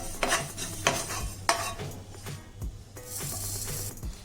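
Cumin seeds lightly roasting in a pan, stirred with a few sharp scraping strokes early on, then a softer, quieter rustle and faint sizzle; no talking.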